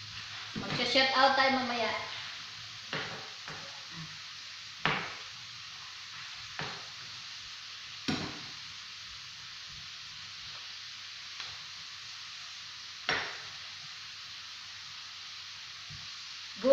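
Potatoes frying in a pan give a soft, steady sizzle with scattered light clicks and pops. A voice speaks briefly at the start.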